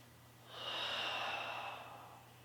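Deep breathing during a yoga flow: one long, slow, airy breath that swells and fades, close and soft.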